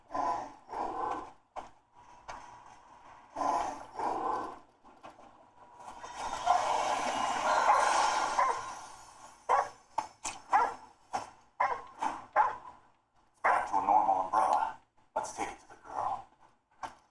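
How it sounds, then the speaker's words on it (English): Several dogs bark and yip around someone indoors, bursts of close barking in irregular clusters with a longer noisy stretch, while a person talks softly in between. "get out the way, puppies"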